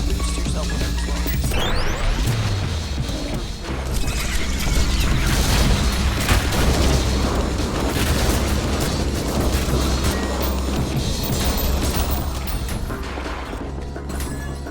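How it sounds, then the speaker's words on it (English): A large explosion set off by shooting an explosive torch in a video game, with a dense, loud roaring blast and crashing debris that stays heavy for the whole stretch, along with a mechanical clatter. "You can actually shoot that torch and create a bigger explosion."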